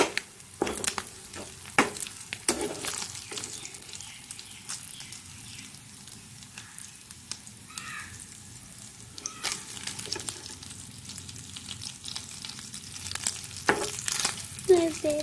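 Curry frying in a pan, a soft steady sizzle broken by frequent sharp stirring clicks and scrapes, moderately close and fairly quiet, with no voices.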